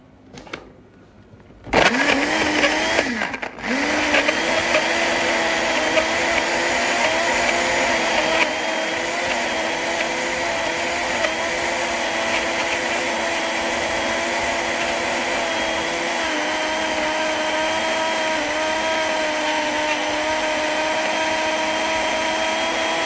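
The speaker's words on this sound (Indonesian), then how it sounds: "Jadi blender ini supaya menghaluskan bahan-bahan yang sudah kita gunakan ini" A blender grinds herbal ingredients at high speed, a loud steady whirring motor that kicks in after a couple of seconds with brief stutters and then drones continuously to the end.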